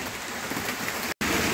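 Steady rain pours down outdoors, a dense, even hiss of falling water that cuts out for an instant near the end before resuming just as strongly.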